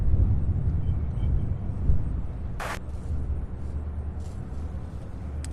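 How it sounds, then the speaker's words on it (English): A United Express airplane lands at Louisville International Airport, its distant, steady low engine roar heard from outdoors, with one sharp brief click partway through. "that is the one that just landed here"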